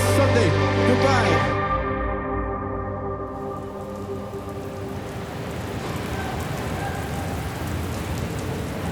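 Rain falls steadily in an even, hissing wash as a sustained musical tone fades out at the start, continuing alone for several seconds.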